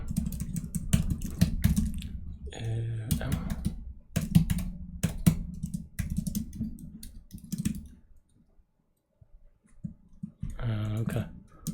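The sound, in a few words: typing on a computer keyboard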